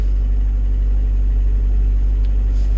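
A Lada Priora engine idling steadily after a cold start at about minus 23 outdoors, a loud constant low hum and rumble with no change in pitch, close and alone.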